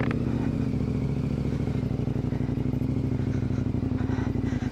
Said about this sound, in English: On the back of a motorbike.